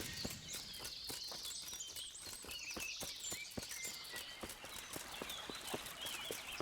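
Horse hooves clip-clopping at a steady walking pace in the medieval game Kingdom Come: Deliverance, close and even, with faint bird chirps above and no talk.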